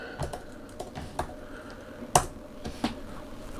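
Close, quiet typing on an Apple Magic Keyboard for iPad Pro, a scattered run of soft key clicks with one sharper, louder tap near the middle and no talking.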